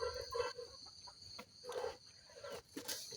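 Chickens clucking nearby in short, irregular bursts, with a few louder calls standing out and no voices.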